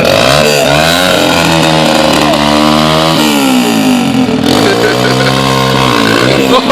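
A dirt bike engine kickstarted into life, roaring loud and close with a rough, buzzing note that rises and falls as the throttle is blipped, with no pauses across the whole stretch.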